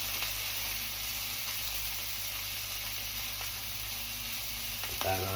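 Onions sizzle on a hot griddle while Oklahoma onion burgers are being made, giving a steady, even crackling hiss throughout. A light scrape or clink of a spatula sounds near the end.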